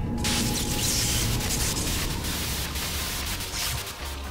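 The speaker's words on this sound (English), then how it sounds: "White noise on the screen will signal the start of battle." Loud, continuous white-noise static hiss signals the start of a battle in the video game .hack//G.U., steady and alone with a low hum underneath.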